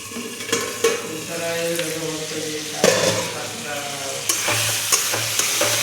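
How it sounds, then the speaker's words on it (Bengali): Meat curry with spices frying and sizzling in oil in a pot, a steady crackling sizzle broken by clinks and scrapes of a spoon stirring against the metal, close and moderately loud. "মশলা থেকে তেল ছাড়লেও তবুও এখন হালকা করে আমি ঢাকা দিয়ে দেবো"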